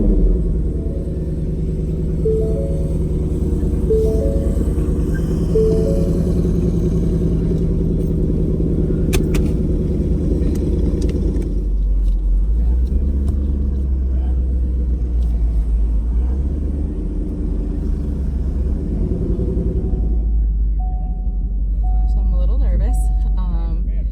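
A fast drag-racing car rumbles steadily and loudly from inside or close by, with a deep continuous engine drone that shifts in pitch partway through, sustained with no clear gaps.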